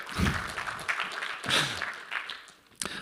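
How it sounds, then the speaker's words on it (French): Brief audience applause for a speaker on stage at a business talk, moderate clapping over about three seconds with a voice briefly audible. "On peut l'applaudir, effectivement"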